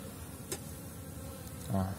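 Honeybees flying around a hive, a steady low insect buzz running throughout with a brief voice near the end.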